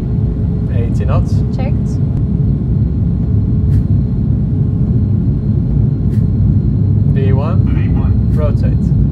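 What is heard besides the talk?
airliner jet engines spooling to takeoff thrust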